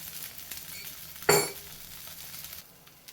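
Rava dosa frying in ghee on a hot pan gives a steady low sizzle, with a sudden louder hiss burst at about a third of the way through that fades back into the quiet crackle.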